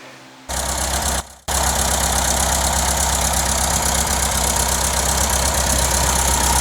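A Volkswagen Kubelwagen engine runs with a newly fitted exhaust, starting with a short low rumble, then cutting out briefly before settling into a loud, steady idle close by with a low, even throb.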